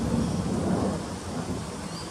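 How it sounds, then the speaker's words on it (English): Steady rain pours with a low rumble of thunder rolling underneath, a dense, continuous wash of storm noise. "There's a big storm."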